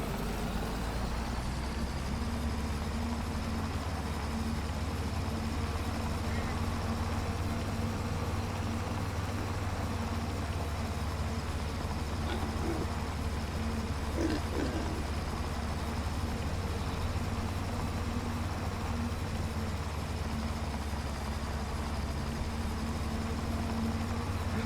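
A tractor engine in a farming video game drones steadily and evenly throughout, a constant low rumble with a faint whine on top and no talking.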